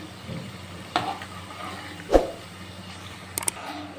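Ragi flour murukulu fry in oil over a low flame, a quiet sizzle broken by a few sharp clicks and scraping stirs from a utensil.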